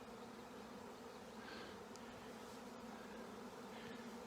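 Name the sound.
honey bee swarm buzzing around beehives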